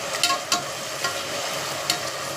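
Ginger garlic paste and curd sauté in a hot pan, a steady soft sizzle with a few sharper spatula scrapes and stirs standing out.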